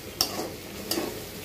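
Chickpeas stir-fried in a pan give three sharp spatula scrapes, evenly spaced, over a soft low sizzle, with no voices.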